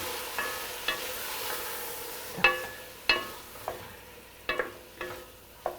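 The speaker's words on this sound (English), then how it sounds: "And we leave saute the tomato together." Tomato sautéing in a pan for Tuscan zuppa toscana, a steady soft sizzle broken by a series of sharp utensil scrapes and stirring knocks at irregular intervals, close and alone.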